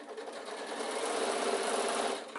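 A sewing machine runs a seam on an insulated picnic bag, one continuous close, even whirring burst that speeds up and then slows as it stops.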